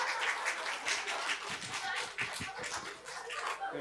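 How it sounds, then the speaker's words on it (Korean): A congregation at a Christmas church service claps as a church elder who is a singer is welcomed. The claps are soft and distant, a loose, quick patter with scattered sharper hand claps. "큰 박수로 부탁드립니다."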